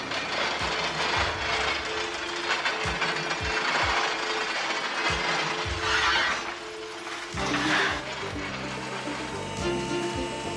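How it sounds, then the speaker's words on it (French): Roadheader excavating tunnel rock, a heavy grinding mechanical roar with repeated knocking thuds and rattling, steady and loud throughout, the tone shifting lower partway through. "le terrassement est réalisé au moyen d'une machine à attaque ponctuelle"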